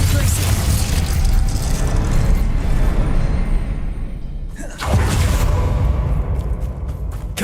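Confringo fire spell cast in Hogwarts Legacy, a dense loud blast of crackling, rumbling game combat noise that briefly drops out then surges again, with a voice calling out spell names over it.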